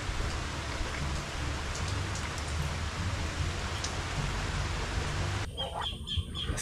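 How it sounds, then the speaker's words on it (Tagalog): Rain falls steadily while the sun is out, a close, even patter and hiss across the whole stretch, with faint birdsong near the end. "Maaraw, umuulan."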